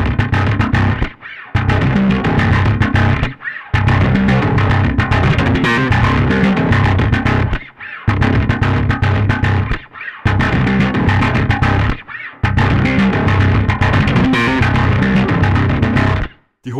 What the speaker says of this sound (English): The whole idea behind the Alpha Omega concept, or also the Alpha Omicron of course, is the combination of two different distortion circuits.